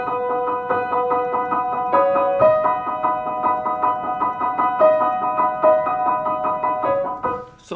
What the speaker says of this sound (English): whenever we have a chord like this, a tremolo chord,